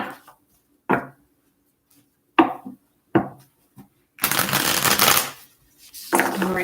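Tarot cards being shuffled in a quiet room: a few sharp separate riffles and taps, then a longer, louder burst of rapid shuffling, closely recorded with no talking.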